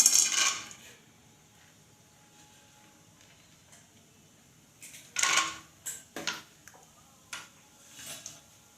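Peanuts dropped into a pan for North Karnataka spicy churumuri, a quick scattered clatter of hard pieces at the start, then a few more small rattling bursts and clicks a few seconds later, fairly faint and close.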